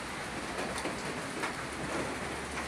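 Steady, dense rain falls throughout a low-pressure storm, a continuous close hiss with no voices.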